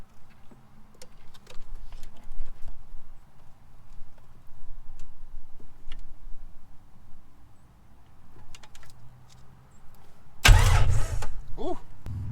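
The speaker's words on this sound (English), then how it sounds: "let's crank it up, see if she'll start" Jeep XJ engine cranking in a brief loud burst near the end after a long, mostly quiet stretch of faint handling noises.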